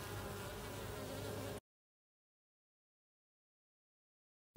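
Honeybee drones and workers buzz steadily and closely for about a second and a half while being handled by hand, then the sound cuts to silence.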